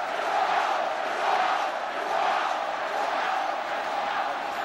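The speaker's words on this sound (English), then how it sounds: "the home crowd are chanting Yorkshire, Yorkshire" Home supporters at a Huddersfield rugby league match chant steadily, a dense wash of massed voices rising and falling in waves from the stands, with no break in the roar.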